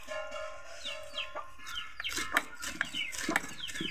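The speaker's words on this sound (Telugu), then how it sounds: "కోళ్ళు వచ్చేసినాయి అమ్మా" Several chickens cluck and squawk close by in quick, overlapping calls, with a brief flutter of wings among them and no talking.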